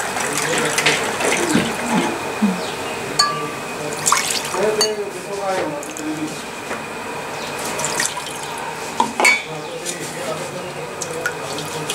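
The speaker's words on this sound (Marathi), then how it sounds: "लास्टला पाणी घालून मसाला सगळा भाजीला लागतो." Water poured into vegetables cooking for undhiyu, a trickling, splashing pour with small clinks, heard under a person talking throughout.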